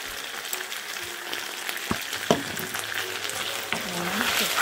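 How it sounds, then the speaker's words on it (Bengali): Garlic pickle fries in a pan while being stirred: a continuous close sizzle with scraping strokes and a few sharp knocks of the utensil against the pan, and no talking. "আবারও আচারটা একটু নেড়ে দিচ্ছি যাতে নিচে পুড়ে না যায়"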